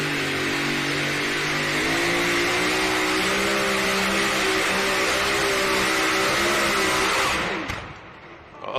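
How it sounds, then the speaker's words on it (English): Supercharged pulling truck roaring at full throttle during an NTPA truck and tractor pull at the NC State Fair, a loud steady engine howl with rising pitch that holds for about seven seconds before cutting off abruptly. "Truck's in neutral, and he'll get the slack out of the chain, and here we go."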